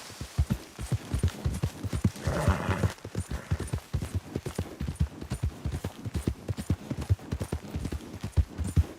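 Hooves of a galloping horse in the Red Dead Redemption 2 video game, a steady fast rhythm of close, distinct thuds that runs throughout, with a brief snort partway through.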